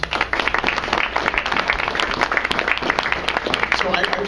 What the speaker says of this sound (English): So I'd like for you to put your hands together and applaud Kier-La Janisse.